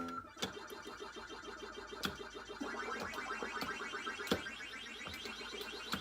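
Ms. Pac-Man chiptune arcade music bleeps along with repeated chirping effects and periodic sharp clicks, steady and moderately loud from small computer speakers on an Arcade1Up cabinet.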